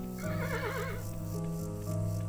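Donkey braying in Kingdom New Lands: a loud, wavering whinny-like call in the first second, with pitch swings, over a steady game music bed, then a softer, held tone trailing off.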